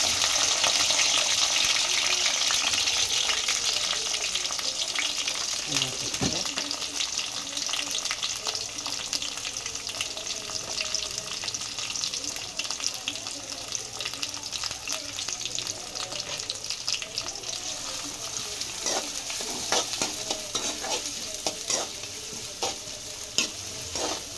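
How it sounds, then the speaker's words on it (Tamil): Curry leaves and onions frying in a pan for a chicken dish, a continuous loud hiss and sizzle with occasional stirring clinks throughout. "அதுக்கடுத்து கருவேப்பிலை போட்டுக்கலாம்ப்பா. அதுக்கடுத்து வெங்காயம் போட்டுக்கலாம்."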